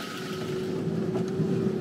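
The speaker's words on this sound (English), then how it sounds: "We're in the 4x4, headed up the road" A 4x4 climbs a bumpy dark road toward the highest point in Panama, its engine a steady close drone with a constant hum and no voices.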